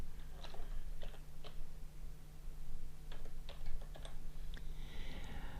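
Caption text being typed on a computer keyboard, a few light clustered keystrokes close by with short pauses between them, set over a low steady hum.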